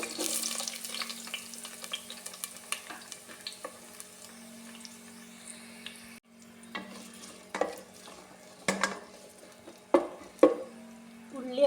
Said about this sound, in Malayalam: ഉള്ളിയൊന്ന് നന്നായി ചമന്ന് വരട്ടെ